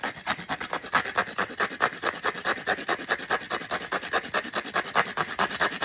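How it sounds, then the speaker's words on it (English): Folded scrap cardstock being grated on a handheld grater, a steady rhythmic rasping scrape repeating quickly and evenly, close and moderately loud with no talking. "So what you're going to do is you're going to just grate your cardstock."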